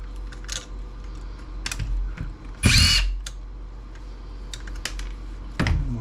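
A power drill backs screws out of a 1997 Dell laptop: short separate whirring bursts, with one louder and longer burst in the middle, amid light clicks and handling noise.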